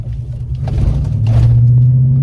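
Deep, throaty engine rumble from a Gen 1 Ford Raptor pickup with a K&N cold air intake, swelling as it revs up and holding a low steady drone, close and loud.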